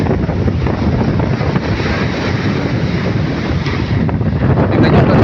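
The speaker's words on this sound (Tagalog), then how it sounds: "Tingnan yung alon oh. Lakas ng hangin." Strong habagat monsoon wind and big waves at the sea, a loud continuous roaring wash of wind buffeting the microphone with surf churning underneath, no clear breaks.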